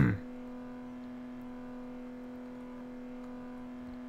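A car driving in Garry's Mod gives off a constant, flat engine drone at steady pitch, unchanging for several seconds after a brief louder onset.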